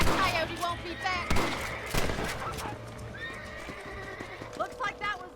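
Horse hooves clip-clop and a horse whinnies repeatedly in Red Dead Redemption, with distant gunfire and talk over the game sounds.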